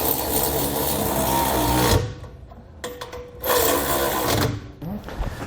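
Hardware on a B&W Companion 5th wheel trailer hitch being tightened with a 19mm socket, a steady close ratcheting and grinding run that breaks off around two seconds, then resumes in another burst with brief pauses.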